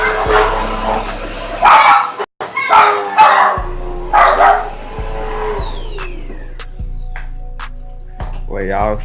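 A dog reacts to a running vacuum cleaner with a few loud barks and yips over the machine's steady drone. The vacuum's hum starts partway through and carries on under the barking while someone talks.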